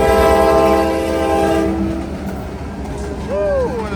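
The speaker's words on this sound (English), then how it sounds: "the train just started going across the tracks" A freight train rolling across tracks near a truck, its loud horn blaring at the start, then wheels rumbling and clattering as the train passes close by, alone without talk.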